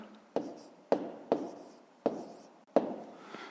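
Handwriting on paper during a fifth-grade math exercise, heard as about six distinct taps and short scratchy strokes spaced roughly half a second apart, close up against a quiet room.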